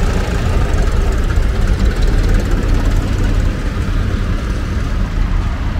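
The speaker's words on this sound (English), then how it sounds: "Good old Grey Massey Ferguson." An old grey Massey Ferguson tractor engine idles steadily and loudly at a tractor and classic car rally in Ireland, a continuous low rumble with outdoor crowd noise around it.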